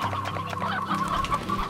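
A roostro, a rooster-like bird in the game Slime Rancher, clucks in a quick run of short, close clucks lasting under two seconds.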